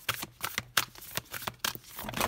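Tarot cards being shuffled and drawn, a quick run of crisp papery riffles and slaps in uneven bursts, close and moderately loud with no voices.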